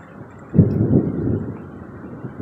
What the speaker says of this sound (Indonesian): Ada petir